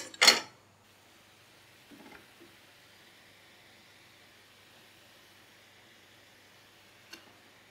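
Cooked chicken pieces drop onto yogurt masala in a pan for street-style tawa chicken: one brief thud at the start, then near silence broken by a faint clink later on.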